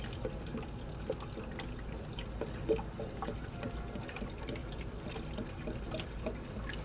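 Vodka poured from a bottle over black walnut hulls in a jar to make a tincture, a steady liquid trickle and splash running throughout at moderate level with small drip accents, no voices.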